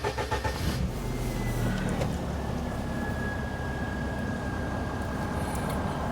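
Engine of a cheap old Perodua car running steadily after starting on a village road, a continuous mid-pitched drone with a brief rougher burst at the very beginning, close and fairly loud with no talk.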